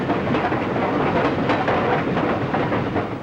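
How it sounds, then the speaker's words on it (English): New York Central's Flying Mercury passenger train running between Cleveland and Detroit, a steady dense rumble with faint rhythmic rail clatter, heard close and continuous without talk. "the Flying Mercury of the New York Central running from Cleveland to Detroit"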